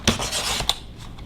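Card stock being cut for a handmade card, a short rasping scrape with a couple of sharp snips, close and distinct, lasting about a second with no speech.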